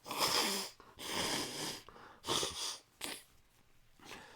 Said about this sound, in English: Hold on, I gotta blow my nose.